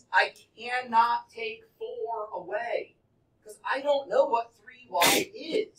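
A single sharp, loud sneeze from a student in a classroom near the end, with a teacher talking about a math problem throughout the rest.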